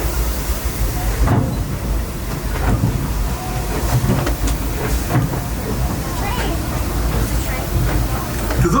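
The Disneyland Railroad train rolls along its track near New Orleans Square Station: a steady rumble with rhythmic clicks from the wheels, under faint voices from passengers.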